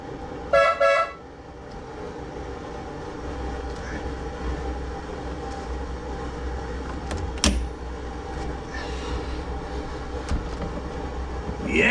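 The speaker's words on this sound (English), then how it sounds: "And the horn definitely works." A car horn gives a loud double toot near the start, standing out clearly over a steady background hum, with no talking alongside it.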